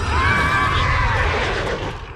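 A horse mount whinnies in a Dungeons & Dragons video game, one loud, close, wavering neigh that rises and trails off over a low rumble, with no voices.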